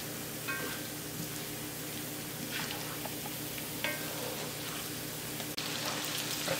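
Onion sizzles steadily in a pan over medium-low heat for a fish vindaloo, a soft continuous crackle and hiss with occasional stirring clicks, close and fairly quiet with no talking.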